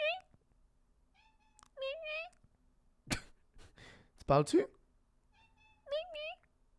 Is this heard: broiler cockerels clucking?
no